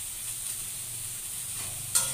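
Chopped onion, green chili and capsicum fry in a pan with a steady, even sizzle, and a light utensil clink sounds near the end.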